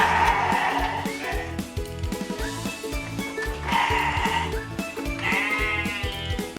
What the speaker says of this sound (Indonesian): Berisik banget ya domba-dombanya